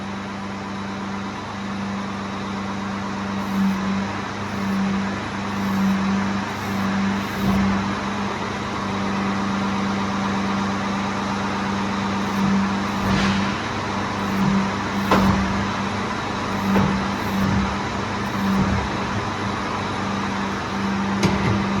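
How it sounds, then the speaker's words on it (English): Hydraulics push a part of a Pacer feed trailer back into place, a steady mechanical drone under an idling engine with several sharp knocks and clunks partway through. "we're going to use these hydraulics to see if we can bring that"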